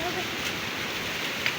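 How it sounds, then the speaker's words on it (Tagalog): Steady rain after a typhoon hisses continuously, a dense even wash of drops with no pauses. "tuloy-tuloy pa rin yung ulan dito"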